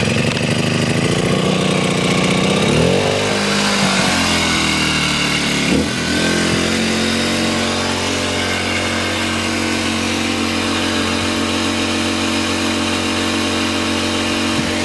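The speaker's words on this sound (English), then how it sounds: "Put it in the start position and pull." A Kipor IG1000P inverter generator (U.S. version) is pull-started close by, sputtering and surging for a few seconds before it settles into a loud, steady running drone that lasts to the end.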